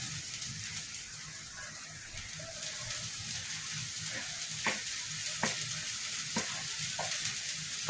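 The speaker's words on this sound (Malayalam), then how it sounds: "ഇനി നമുക്ക് ബ്രോക്കോളി ഇടാം." Broccoli sizzles in a pan with grated coconut mixture for a Kerala broccoli thoran, a continuous frying hiss with repeated sharp taps and scrapes as it is stirred.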